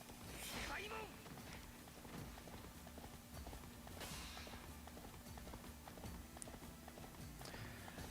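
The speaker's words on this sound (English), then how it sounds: "Horsey!" Horse hooves clip-clopping steadily in Samurai Warriors Chronicles 3, a quick rhythmic trot running through the whole clip at moderate level, with a few faint game voice sounds over it.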